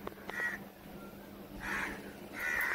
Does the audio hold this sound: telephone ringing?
no